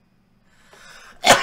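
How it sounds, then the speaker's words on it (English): A single loud sneeze bursts out at the end, preceded by a quiet, building intake of breath. "I feel like I'm gonna sneeze too."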